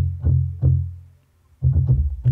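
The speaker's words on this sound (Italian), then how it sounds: "questo qui che è un saturatore della Waves" Electric guitar through a Waves saturator plugin with the mix at maximum, playing gritty, distorted low chords in short bursts with a brief gap, loud and close.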